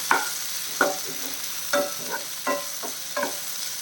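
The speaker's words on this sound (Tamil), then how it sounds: "இதையும் சேர்த்து நல்லா வதக்கிடலாம்" Chicken and tomato sautéing in a pan for a Tamil-style chicken fry, with repeated stirring scrapes and soft sizzling in regular bursts, close and fairly loud, no talking.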